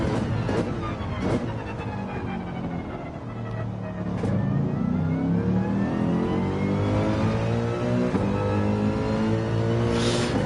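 A Mercedes race car engine in a racing video game revs and accelerates continuously, a loud mid-pitched whine climbing through the gears with steady rumble underneath and brief shifts between runs.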